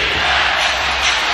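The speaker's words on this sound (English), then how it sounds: "How about this crowd and this atmosphere right here? They're all up on their feet." Basketball arena crowd during the final minutes of a Cleveland Cavaliers versus Philadelphia 76ers game, fans up on their feet roaring in a loud, sustained, unbroken wall of cheering.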